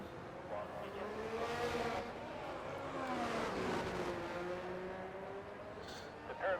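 Formula 1 race car engine in a racing video game at the Mexican Grand Prix, a steady high whine rising and falling through gear shifts, droning continuously at moderate loudness with a brief louder burst at the end.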